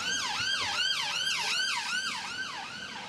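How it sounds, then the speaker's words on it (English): An ambulance siren wails in a fast, repeating rising-and-falling sweep, loud and fairly close, passing by outdoors and fading slightly toward the end. "So the ambulance goes right past"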